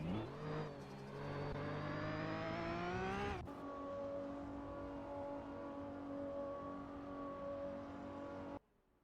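Retro supercars in an AI racing simulator game roar with a rising engine whine that climbs steadily, then cuts sharply to a steady high-pitched cruising drone that holds before ending abruptly; no talk.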